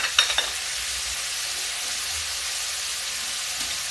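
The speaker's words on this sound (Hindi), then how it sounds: "अब इसमें जो मैंने मसाले घोल के रखे हैं ये डालेंगे" Spice paste added to hot oil for rajma nimona, a kidney bean curry cooked without garlic or onion, starts with a brief clatter and then settles into a steady, close hiss of sizzling that continues alone.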